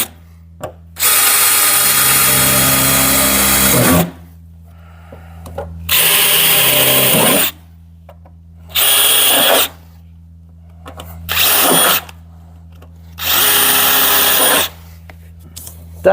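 A power drill bores holes in sheet metal on a car body, five separate bursts of loud high-pitched whirring and grinding separated by quiet pauses, each lasting one to three seconds, close up over a low background hum.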